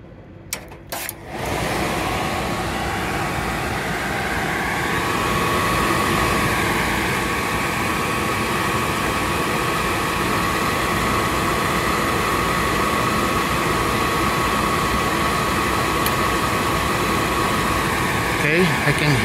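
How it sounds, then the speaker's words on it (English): A Suburban RV furnace whose igniter clicks while gas flows but fails to light, heard as a steady loud blower-like roar that runs almost throughout after a few sharp clicks and knocks at the start. "I can hear the click and I can smell gas, but it doesn't light up"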